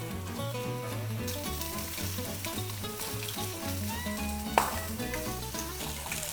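A ribeye steak sizzles in a pan with a continuous, moderately loud crackle beneath background music, punctuated once by a sharp click partway through.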